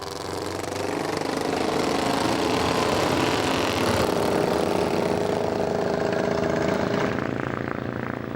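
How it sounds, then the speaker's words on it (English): A 1936 Norton International 500cc racing motorcycle passes on the Klausen hill climb, its engine a loud, sustained roar that builds and then fades slightly at the end. "Norton International, built 1936 with a 500cc engine, overtaking elegantly on the inside."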